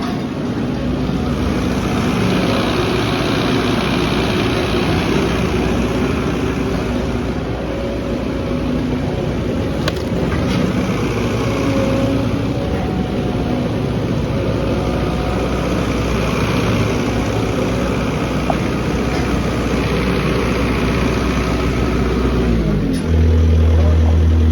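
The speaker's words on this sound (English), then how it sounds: "Oh, this is their backup generator." A backup generator engine runs in a steady, loud drone with a constant low hum and no clear breaks, filling the whole stretch before a brief shift in tone at the end.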